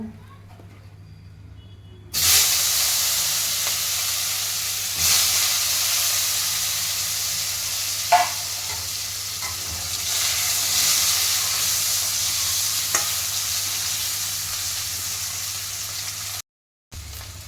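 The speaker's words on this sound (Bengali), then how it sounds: "এই গরম তেলটার মধ্যে আমি কিন্তু আলুটাকে ভেজে নেব" Potatoes frying in hot oil, a loud, steady hiss that starts abruptly and holds throughout with occasional small crackles, close up.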